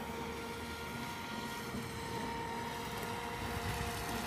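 Vector SR80 Pro RC boat with a Hobbywing Seaking controller on a 4S LiPo, cruising on water: a steady, fairly faint high motor whine held evenly throughout with no talk.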